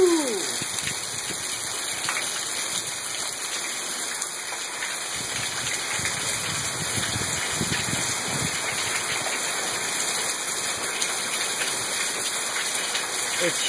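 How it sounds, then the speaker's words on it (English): Heavy rain from Hurricane Isaac pours down steadily and close by, a dense wet hiss with splashing on surfaces, broken by a few faint low sounds. "Let's look at the hurricane."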